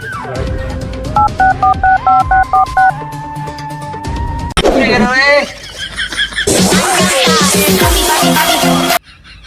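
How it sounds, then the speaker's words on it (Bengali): A rapid sequence of telephone keypad tones beeps out a number, then other electronic sounds and a voice follow, with the tones loud and close. "আরে দয়া এই তুমি স্যার একটা ফোন কর"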